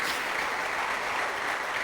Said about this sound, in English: Can we give it up for Tim?